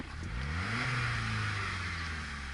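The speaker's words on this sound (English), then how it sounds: "When an engine is lean, it tends to dip below the idle speed after you rev it." A car engine with a lean mixture revs up once and then falls back toward idle, its rising and sinking drone close and steady with no talk.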